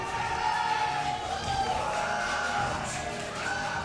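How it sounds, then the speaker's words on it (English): Crowd at a StarCraft esports event, the GSL 2016 Code A in Korea, cheering and whooping in a sustained roar that fills the whole stretch, with a voice mixed in. "And the crowd goes wild."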